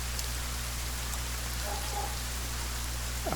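Rain falling in the video game Sons of the Forest, a steady dense wash of patter over a low constant hum, with no talk.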